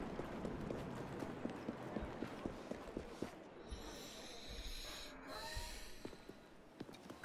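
A horse in Assassin's Creed Syndicate snorts and breathes heavily while its hooves clip-clop in an uneven rhythm. The sounds are quiet and close, with some soft background noise.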